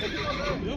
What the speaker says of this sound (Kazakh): Мінекей тағы да керемет тамаша тай.